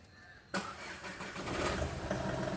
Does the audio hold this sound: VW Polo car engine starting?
yes